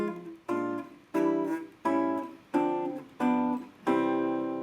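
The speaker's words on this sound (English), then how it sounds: "So this chord progression sounds something like this." Piano plays a jazz progression of cascading 2-5 chords, with six sustained chords struck in a steady rhythm, each ringing and decaying before the next.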